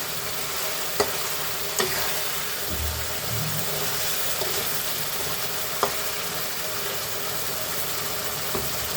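Katla fish belly pieces cook down in a pan with curd, onion paste and tomato, giving a steady loud sizzle with occasional light clinks of a spoon against the pan, and no talking.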